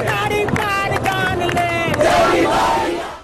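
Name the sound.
protest crowd of students chanting slogans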